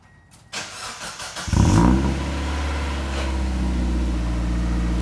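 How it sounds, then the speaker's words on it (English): A Mazda Miata engine cold-starts after a quiet moment: a brief cranking whirr, then it catches with a loud burst and settles into a steady, rough, close-up idle. "Cold start."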